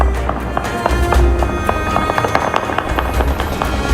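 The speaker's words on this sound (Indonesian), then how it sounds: "Warga melepaskan tembakan bertubi-tubi ke udara untuk merayakan dimulainya gencatan senjata." Celebratory gunfire fired into the air in Lebanon: rapid bursts crackle in quick, irregular succession over a low rumbling background, sounding somewhat distant and continuous across the whole stretch.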